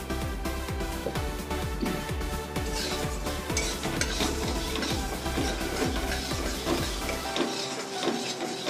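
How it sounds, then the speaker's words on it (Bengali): Kalai (biulir) lentils dry-roast in a pan with no oil, giving a steady rhythm of close, gritty scraping strokes as they are stirred. A light rattle of grains continues for several seconds, then the sound suddenly thins out. "এটা একটু শুকনো খোলায় ভেজে নেব বন্ধুরা।"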